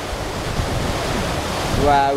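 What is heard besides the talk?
Paccha waterfall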